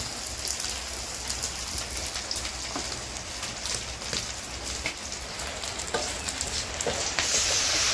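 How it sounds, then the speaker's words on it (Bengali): Dried fish and onion fry for a tomato chutney, making a dense, continuous crackling sizzle punctuated by occasional stirring scrapes, loud and close with no voices. "শুটকি আর পেঁয়াজ ভাজা হয়েছে, টমেটো দিয়ে গেছি, মশলা রসুন মরিচ দেয়া করে দিয়ে গেছি"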